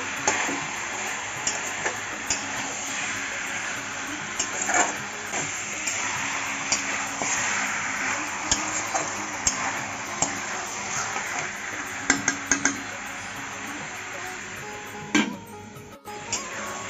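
Mutton sautéing in a pot with ginger-garlic paste for a wedding-style curry: a steady sizzling hiss runs throughout, punctuated by scattered ticks and scrapes of stirring that grow louder near the end.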